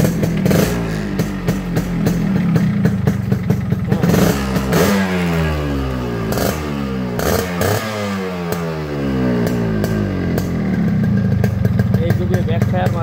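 A Yamaha RXS 115 motorcycle engine starts and runs, revving up and down with a rattly, clattery two-stroke tone, loud and close, with someone talking over it.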